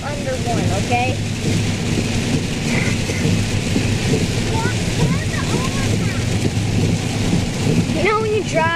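Heavy rain pours steadily onto a car with a constant dense roar, while people talk intermittently over it.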